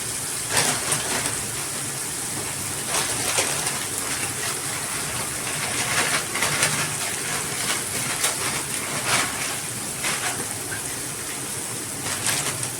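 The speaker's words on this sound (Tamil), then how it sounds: "இப்போ அந்த பக்கம் தண்ணி கொதிச்சிருச்சு" Water for egg noodles boils steadily in a pot, a continuous close bubbling rush with small pops and crackles throughout, no voices.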